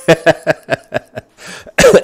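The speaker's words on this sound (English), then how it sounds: "I'm coughing into the microphone." A man coughs repeatedly into a close microphone, a rapid run of about six harsh, evenly spaced coughs, a brief breathy pause, then a louder final cluster.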